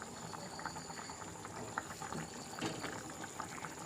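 Chicken and potato curry bubbles in a pot on the stove, a steady soft simmer of popping bubbles heard close up with no talking.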